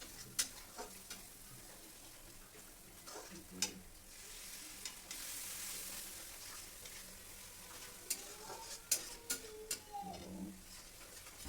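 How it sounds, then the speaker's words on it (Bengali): A spice masala with a little water sizzles steadily as it is sautéed in oil, with sharp clicks and scrapes from stirring scattered throughout and a brief louder hiss near the middle. "দিয়ে সামান্য পরিমাণে জল দিয়ে মশলাটাকে খুব সুন্দর করে কষিয়ে নেব।"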